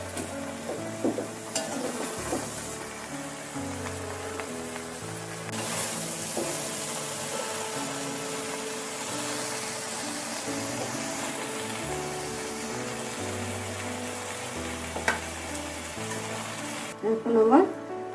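Fried vegetables for veg chow mein being stirred in a pan, a low steady sizzle with occasional scraping knocks, while a person talks over it.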